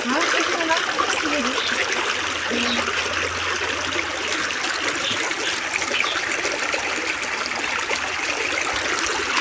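Water flowing in a stream beside a bushy trail makes a steady, close trickling and splashing wash that runs through the whole stretch, with voices talking over it.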